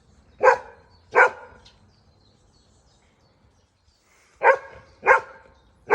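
Dogs barking in pairs of sharp barks, two early and two more after a quiet pause, from a moderate distance in an otherwise still outdoor setting.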